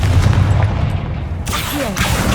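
Confringo blasting curse explosions from the Hogwarts Legacy video game: loud, booming bursts of rough noise over a steady rumble, with a sharp new blast about midway.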